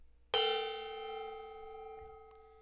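A gong is struck once, ringing out with a bright metallic clang that decays slowly over a couple of seconds, with a faint knock and soft rustling in the room during the fade.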